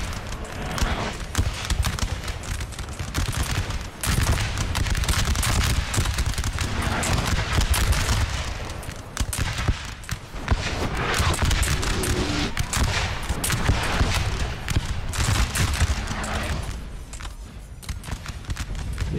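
Napoleon: Total War battle with artillery booms and crackling musket volleys, dense continuous gunfire and distant cannon blasts rolling over a hillside fight, with hoofbeat-like clatter underneath.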